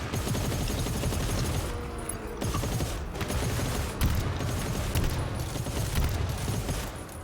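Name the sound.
gunfire in the video game GTFO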